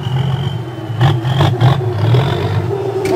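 A modified earth-fill dump truck with a broken exhaust pipe rumbles up close. Several sharp, rattling bursts and clattering pops break through the rough engine drone over a few seconds.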